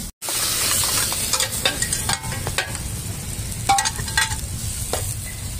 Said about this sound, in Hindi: जो दाल को तड़का लग रहा है